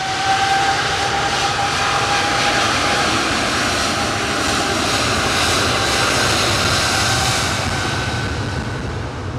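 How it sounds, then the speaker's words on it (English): Steady roar of aircraft jet engines lining up to depart at Manchester Airport, nearby, a broad continuous rumble with a faint whine, holding level throughout with no talk. "Amazing close-up views of aircraft that are lining up to depart."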